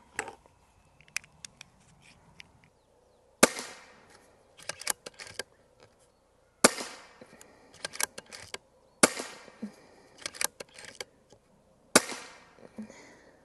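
Stoeger XM1 Ranger .25 PCP air rifle fired several times, each shot a sharp loud crack spaced a few seconds apart, followed by small clicks and clatter of handling and reloading between shots.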